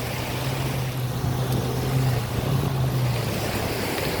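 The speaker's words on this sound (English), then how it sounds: "Just the wind and the sound of the waves here are just totally awesome." Steady surf rolls in at Fort Myers Beach, Florida, under constant wind buffeting the microphone, with a low continuous hum running through the wash of the waves.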